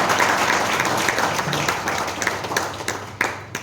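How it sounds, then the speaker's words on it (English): An audience applauds a guest from the Ministry of Youth Affairs and Sports at an NSS training event in an engineering college, dense steady clapping from a large crowd that thins toward the end, with no talk. "I request all the audience to welcome him with a big round of applause"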